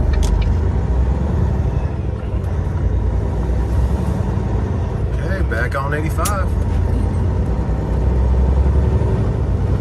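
A Chevrolet Suburban cruises along a highway with steady road and tire roar and a low engine hum, continuous and close, as someone talks briefly over it.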